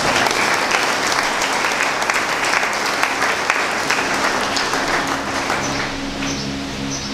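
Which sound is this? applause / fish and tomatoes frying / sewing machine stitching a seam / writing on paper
applause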